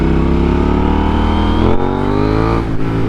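A KTM Duke 890R motorcycle engine revs loud and close, its pitch climbing steadily as it accelerates for a wheelie, then drops and surges again near the end.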